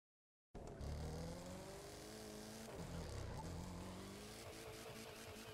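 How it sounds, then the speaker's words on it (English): A car in The Crew 2 spins a donut in Times Square, its engine suddenly roaring in and holding a steady revving drone with faint tire squeal, without any voices. "we're going to do round and square, which requires you to perform a donut in Times Square"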